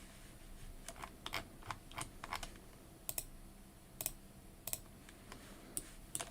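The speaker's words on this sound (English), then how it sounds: "I hope hearing my mouse clicking doesn't get too annoying for you guys." Computer mouse clicking at a desk during a drawing stream, crisp close clicks scattered irregularly through the clip, some in quick pairs, over a quiet room hum with no talking.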